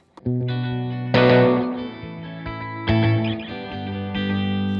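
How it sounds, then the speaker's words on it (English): Electric guitar played through a tape delay effect from Arturia FX Collection: distorted, sustained chords struck several times, each ringing out with repeating echoes trailing behind, loud and alone. "So let's hear what just the tape delay sounds like."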